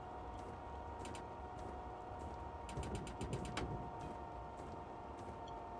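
Train wheels slip in the Train Simulator 2014 video game, a steady mechanical drone with a low hum under rapid ratcheting bursts of clatter that repeat in short, quick clusters, with no talk.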